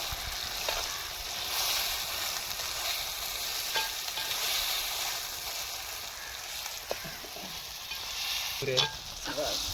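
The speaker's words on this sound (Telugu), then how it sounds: "ఈ పచ్చడి కుండలో ఇలా బాగా వేయించుకుంటే చాలా బాగుంటుంది" Mango pickle ingredients fry in a clay pot in a village home kitchen, making a moderate, steady sizzle. A few stirring knocks sound near the end, with no voices.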